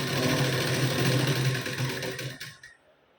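A sewing machine runs steadily, stitching the fitting seam of a katori-style blouse, loud and close for about two and a half seconds before stopping abruptly.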